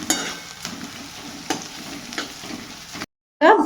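Crushed garlic frying in hot oil in a pan, a steady close sizzle broken by several sharp stirring scrapes, ending in a brief silence and a short burst of noise.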